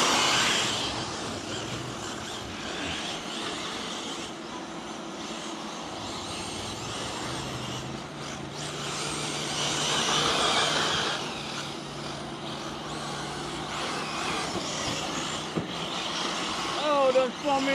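Three electric RC cars race together, a Losi 8ight, an Arrma Talion and an Arrma Senton on 3S power. Their motors make a steady whine that rises and falls as they surge. The sound is loud and continuous, with voices now and then above it.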